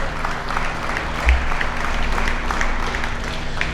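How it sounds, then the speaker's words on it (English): A crowd applauds the top cows lined up in the ring at a Holstein dairy cattle show, steady clapping filling the arena at a loud level. "these 5 out here deserve a big, big round of applause if you folks would put your hands together"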